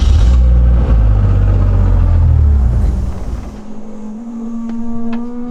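A car with a freshly loaded ECU Master tune roars loudly at first, then the engine drops away to a quieter hum with a rising whine and a few sharp clicks.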